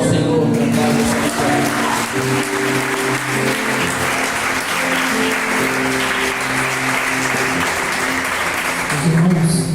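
Church congregation applauding during a worship service, a steady dense wash of clapping lasting several seconds with a sustained musical tone underneath and a voice briefly audible near the end.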